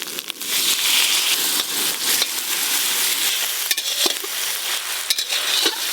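Ginger paste with a little water, together with onion and garlic paste, fries loudly in a pan, giving a steady dense sizzle, scraped and stirred now and then with a utensil.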